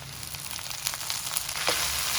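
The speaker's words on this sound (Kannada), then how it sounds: "ಸಣ್ಣ ಕಟ್ ಮಾಡಿರೋಂಥ ಈರುಳ್ಳಿ ಮತ್ತು ಒಣಮೆಣಸಿನ್ಕಾಯಿ ಈರುಳ್ಳಿ ಚೆನ್ನಾಗಿ ಫ್ರೈ ಮಾಡ್ಕೊಳ್ಬೇಕು" Chopped onions, dried chillies and drumstick leaves sizzle steadily in hot oil in a pan for an egg stir-fry, a close, continuous crackle with a few brighter pops and no talking.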